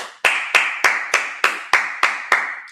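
Congregation at a Sabbath service clapping in eight slow, evenly spaced bursts, each a sharp crack trailing into a brief decay, fairly loud and with no talk.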